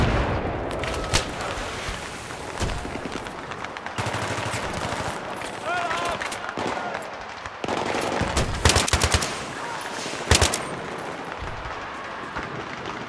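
Bursts of automatic gunfire in Battlefield 3, loud and dense, with rapid rattling volleys and a few heavier blasts, continuing throughout amid battle noise.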